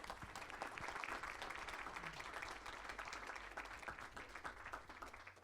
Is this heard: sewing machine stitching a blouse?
no